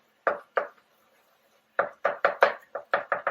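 Chicken potpie ingredients mixed in a dish with sweet potato, heard as a run of sharp, close knocks of a utensil against the dish, two at first, then a quicker burst of about eight after a pause.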